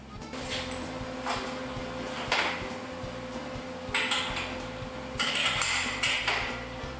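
Metal clanks and knocks sound as a trailer's front axle is slipped into its hanger and a bolt is pushed in, several sharp clinks over a steady hum, with no talking.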